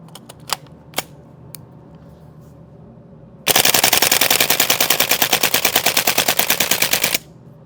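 A G&G gas airsoft gun fires a long full-auto burst of rapid, evenly spaced sharp cracks lasting several seconds, preceded by a couple of isolated clicks and dropping straight to quiet afterward.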